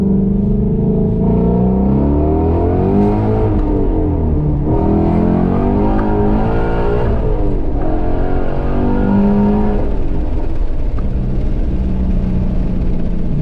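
A Ford Mustang GT350 engine revs and accelerates with a deep, rumbling roar, pitch rising and falling through several throttle blips, loud and close throughout.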